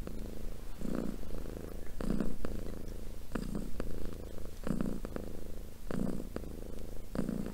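A pet cat purrs close by, a soft steady rumble that swells and fades in regular breathing cycles roughly every second, alone with no other sounds.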